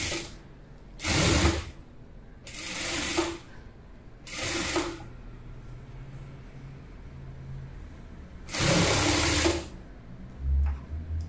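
A sewing machine stitches a frock for a two-year-old child in four short, loud bursts of rapid needle clatter, close up, with quieter gaps between them.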